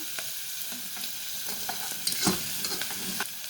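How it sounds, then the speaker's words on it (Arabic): Green peas in red tomato sauce frying in a pan, a steady close sizzle with small stirring scrapes and a brief louder spatter near the middle. "وهسيبها تحمر شوية زي ما انت شايفة كده"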